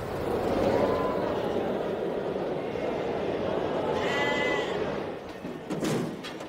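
Sheep brought to a local market auction bleat over a dense, noisy flock murmur, with several distinct wavering calls near and far and some talk mixed in.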